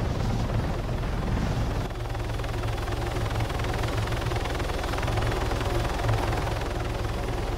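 A Hummingbird (Little Bird) helicopter flies in ArmA 3, its rotor and turbine making a loud, steady, close droning thrum that holds throughout, with a slight shift in tone near the start.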